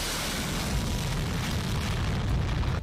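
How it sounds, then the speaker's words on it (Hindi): A GPS-guided bomb dropped by an F-16 explodes during a military exercise: a loud, continuous, rumbling roar that fills the whole stretch and drops away sharply at the end. "F-16 लॉन्च करता है एक GPS गाइडेड बम जो अपने टारगेट पर सटीक जाकर हमला करता है"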